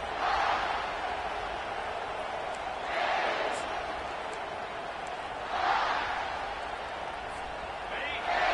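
Stadium crowd at an NCAA college football game against Utah, a broad steady roar with surges of louder cheering at regular intervals, heard at a distance over a continuous murmur with a broadcast voice faintly underneath.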